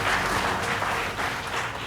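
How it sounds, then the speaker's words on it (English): An audience at an evening event in East Africa applauds with a full, steady burst of clapping throughout the short stretch. "Round of applause, please."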